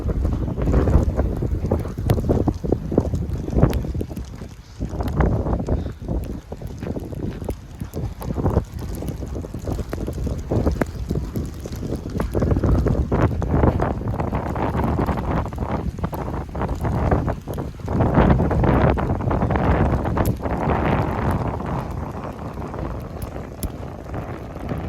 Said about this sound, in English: Might be able to hear that wind